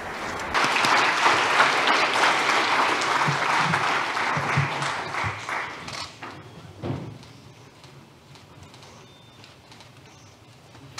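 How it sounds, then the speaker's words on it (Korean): A large conference audience at the Bank of Korea International Conference opening session claps loudly to welcome Governor Waller to the stage; the dense applause holds for several seconds, then thins and fades into a quiet hall. "자, 그러면 큰 박수로 월러 이사님을 무대로 모시겠습니다."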